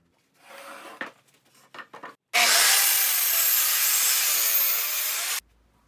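Scrap wood being cut with a saw at a 40-degree angle: a few short scraping strokes and knocks, then a loud, continuous three-second rasping cut close by, ending abruptly.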